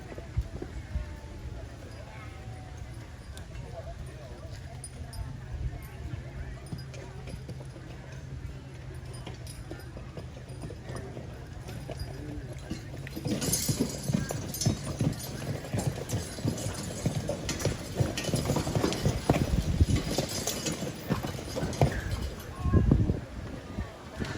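Heavy pulling horses at a horse-pull contest stamp and clop while being hitched, the hoofbeats growing louder and busier toward the end amid crowd murmur and someone speaking over a loudspeaker.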